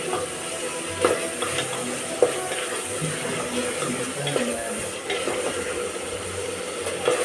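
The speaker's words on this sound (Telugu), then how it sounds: "ఇది కొంచెం మంచిగా ఫ్రై అవుతుంది" Onions frying in a pan for mutton dum biryani: a steady, fairly quiet sizzle with occasional scraping and clinking from stirring, heard close and without speech.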